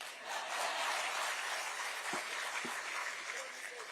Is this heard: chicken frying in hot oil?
no